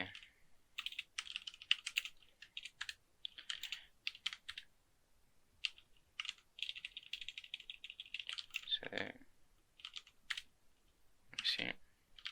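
A git clone command being typed on a computer keyboard, with bursts of quick key clicks separated by short pauses, close and fairly quiet.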